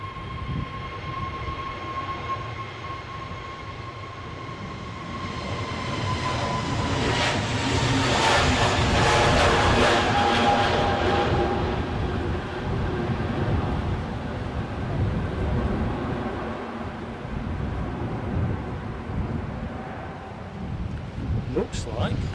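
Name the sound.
easyJet airliner on its take-off roll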